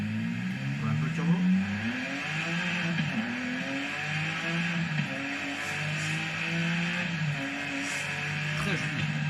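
A Noble M400 engine in the racing game Forza Horizon 5 drones steadily under a turbo, with gear-like stepped rises in pitch running continuously throughout, while someone talks over it.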